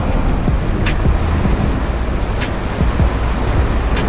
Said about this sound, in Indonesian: Ini hujannya badai banyak petirnya.